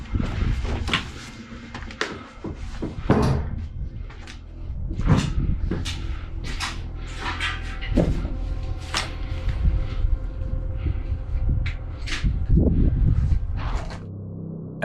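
Doors bang shut inside an abandoned building: several sharp, fairly loud knocks and slams stand out from a steady background of rustling and shuffling, spread unevenly across the stretch.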